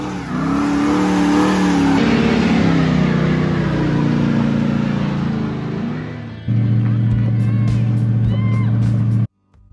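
A Holden Torana's engine revs hard and holds a loud, sustained roar as the tyres spin through a burnout, the pitch shifting partway and then dropping into a steady drone before cutting off abruptly.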